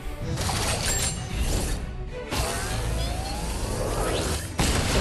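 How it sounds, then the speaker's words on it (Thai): Explosion in the mobile strategy RPG Master Of Knights: a dense, loud burst of crackling, shattering noise with rising whooshing sweeps, filling about five seconds in bursts with short dips between. "อุ้ยโดนระเบิดไปแล้ว"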